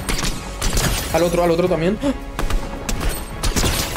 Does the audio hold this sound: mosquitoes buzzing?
no